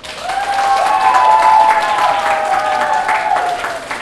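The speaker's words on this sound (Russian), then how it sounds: "Вот за это тебе огромные аплодисменты" Audience applause at a children's karaoke gala concert: steady, dense clapping from a large crowd fills the hall for about four seconds, with sustained tonal music or voices ringing underneath.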